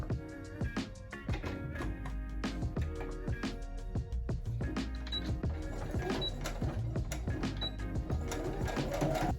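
A sewing machine stitches straight lines on fabric, a fast steady mechanical chatter with rhythmic clicks running throughout, close and continuous with no talk.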